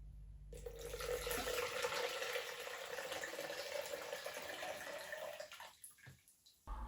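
Water runs steadily into a container while Kodak Vision 3 film is rinsed to remove remjet, a continuous close splashing rush that eases and breaks up near the end.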